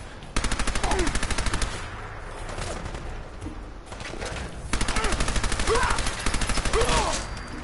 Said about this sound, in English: Need to reload my Tommy gun.